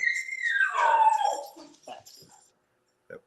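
A dog lets out a drawn-out, falling howl that trails into a few short whimpers and yips, fairly close and loud.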